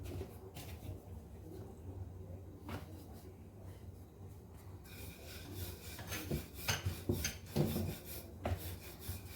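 A rolling pin rolls cauliflower paratha dough, making soft, uneven rubbing and scraping strokes. They are faint at first and grow louder and more frequent toward the end in a home kitchen.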